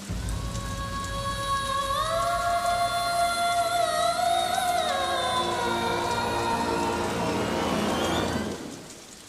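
Heavy rain pours down in a steady, loud wash throughout, with sustained musical tones rising and gliding above it before everything fades out near the end.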